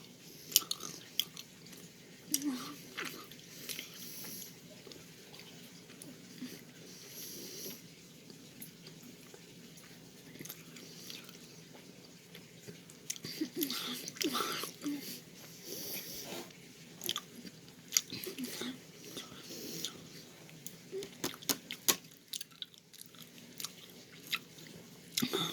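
Close, soft chewing of red bean mochi, moist biting and mashing with occasional sharper crunchy clicks scattered over a long stretch, no speech.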